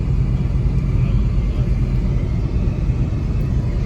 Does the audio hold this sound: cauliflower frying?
no